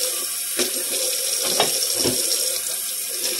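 Tap water pours steadily into a kitchen sink during after-dinner cleanup, a constant close hiss and splash with a few brief louder splashes as hands or dishes break the stream.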